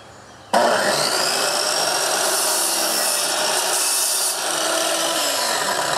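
A power saw cuts through wood on a table or desk building project, a loud steady broadband whine that starts abruptly after a moment of quiet and runs continuously, throwing out a lot of sawdust.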